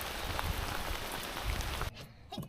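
Steady rain patters close by while fishing outdoors during a thunderstorm, a dense broadband hiss that cuts out sharply near the end, leaving a quieter gap.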